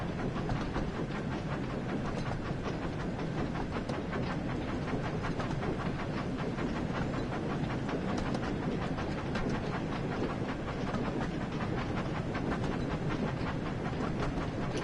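A train shunting in Train Sim World 5 gives a continuous loud rolling rumble with dense rhythmic wheel clatter, steady throughout and without talk.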